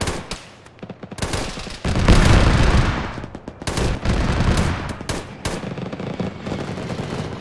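Loud, close gunfire in the military shooter Arma during a ShackTac squad assault: sharp single cracks, then a heavy sustained burst of automatic fire, followed by further scattered rifle shots and bursts.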